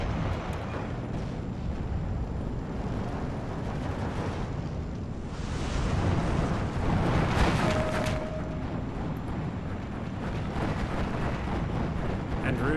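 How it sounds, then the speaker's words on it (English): Russian rocket artillery fires at a King Tiger tank in the Steel Division 2 war game, with a rumbling cluster of blasts swelling mid-clip over a constant roar of battlefield noise. "Russia rockets trying to take out that Königstiger."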